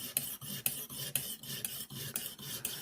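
A Rough Ryder knife sharpened with a Lansky guided system, the hone rasping back and forth along the edge in quick regular strokes, close and alone, roughly two strokes per second.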